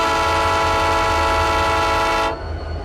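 A GP9 diesel locomotive in the Roblox Ro-Scale Sandbox game sounds a single loud, sustained chord horn blast. It holds steady for over two seconds, then cuts off abruptly, leaving a low rumble.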